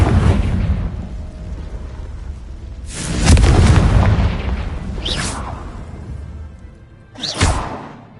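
Confringo fire spell explosions in Hogwarts Legacy: three separate booming blasts, each with a whooshing burst, spaced a few seconds apart and heard close and loud against a rumbling background.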